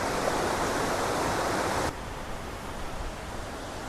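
A river pours down into a series of little pools on its way toward Route 11, making a loud, steady rushing hiss that drops abruptly to a softer, more distant flow partway through.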